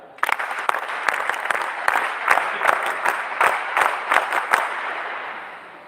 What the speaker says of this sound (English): big NCC clap for state of Assam.